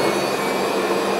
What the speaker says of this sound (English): is the engines of this aircraft going into reverse.